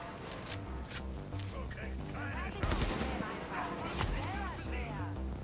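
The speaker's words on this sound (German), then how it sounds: "Erstmal fett gegen die Wand hier schießen." Rapid bursts of automatic gunfire in The Division, sprayed against a wall, with loud cracking shots stacking up and echoing, while a voice talks over the shooting throughout.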